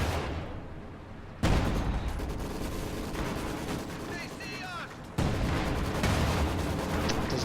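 Maxim machine-gun and field-gun fire rumble through a strategy war game battle in dense, continuous volleys with sudden louder bursts of explosions, while a voice commentates over the din.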